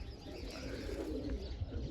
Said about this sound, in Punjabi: ਆਪਣੇ ਹੈਗੇ ਆ ਵੱਡੇ ਕਬੂਤਰ